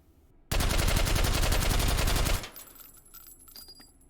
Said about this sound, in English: Let's try it with the stock and the suppressor.